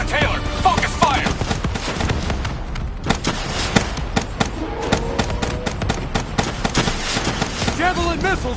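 Rapid video game battle gunfire, a dense loud barrage of automatic shots with scattered booms, while electronic chirps and some game voice chatter sit in the mix.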